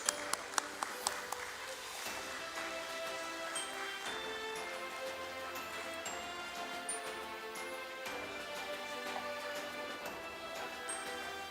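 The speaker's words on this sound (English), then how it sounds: "Let's give a big round of applause to the team of AdFactors PR and Advertising." Applause for a PR and advertising team at a stock exchange listing ceremony, a sustained patter of many hands clapping heard at a distance, with a few sharper claps at the start and music-like tones underneath.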